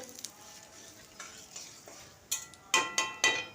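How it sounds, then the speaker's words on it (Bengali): Turmeric being stirred into oil in a pan for tomato chutney, soft scraping and a faint sizzle followed by a few bright clinks of a metal spoon against the pan. "আমি একটু হলুদটা তেলের সঙ্গে ভালো করে একটু মিশিয়ে নিলাম"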